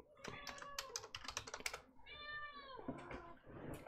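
A needy house cat meows in a few drawn-out calls, close by, mixed with rapid computer keyboard typing during a live game stream.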